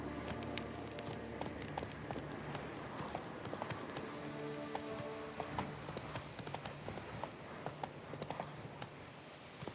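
Horse galloping in The Witcher 3, rapid rhythmic hoofbeats clip-clopping continuously at a steady pace, moderately close, with game ambience beneath and no talk.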